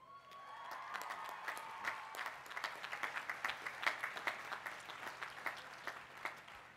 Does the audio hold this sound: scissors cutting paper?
no